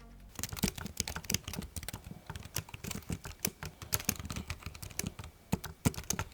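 Close, brisk typing on a compact keyboard with a broad space bar and short-travel clicky keys, a fast uneven patter of light key taps running throughout with no voices.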